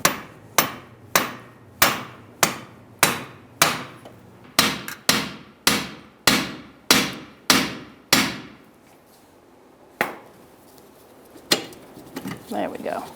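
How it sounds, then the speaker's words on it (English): A hammer strikes a punch to line up a CV axle bolt on a 2014-2018 Subaru Forester 2.5L, about a dozen sharp metallic taps in a fairly even rhythm, then a few spaced final hits, close and clear. "I'm just going to give it a little tap on the bottom."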